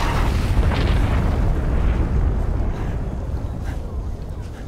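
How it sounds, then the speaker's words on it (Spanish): A loud, booming explosion in the video game Far Cry 5, with a rumbling roar that slowly decays over several seconds. "No me molan mucho esas explosiones random de vez en cuando"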